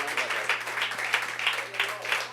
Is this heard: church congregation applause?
yes